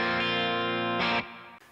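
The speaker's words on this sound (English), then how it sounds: "I have a little bit of dirt from the tilt overdrive, the overdrive side of the tilt Sean Tubbs pedal" Electric guitar through the overdrive side of a Tilt pedal, Mercury 7 plate reverb and an old Sarge amp rings out a sustained, mildly distorted chord, then a brief brighter strum that cuts off into reverb tail.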